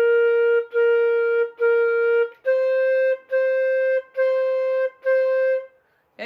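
A flute plays seven sustained, evenly spaced notes with clear harmonics and tiny gaps between them, stepping up in pitch partway through, alone and close, ending in a short breathy noise.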